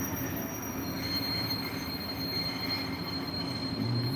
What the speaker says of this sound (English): sorry, it's a loud train.